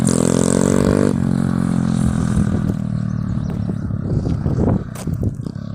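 An SSR 110 pit bike engine revs hard on a road, a loud buzzing drone that drops off after a second into a rougher, lower idle with scattered clatter and a brief dip near the end.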